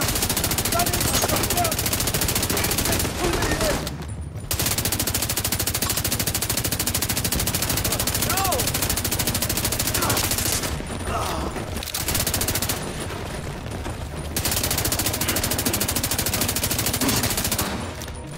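Heavy, nearly continuous automatic gunfire in The Division 2, loud and dense with a few brief pauses, while a voice speaks briefly over the shooting.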